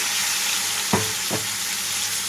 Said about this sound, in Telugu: ఇప్పుడున్న ఆయిల్లోనే టమాటా కూడా వేసేసుకుంటున్నాను